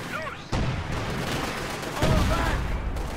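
Artillery fire in Company of Heroes 2 lands in a battle, heavy booms and crackling blasts stacking over a few seconds, with a louder impact near the end and a faint voice underneath.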